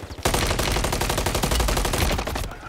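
Machine gun fire in the video game Call of Duty, a long, rapid automatic burst kicking in after a brief lead-in, loud and close, with a steady rattling rhythm that fades out at the end.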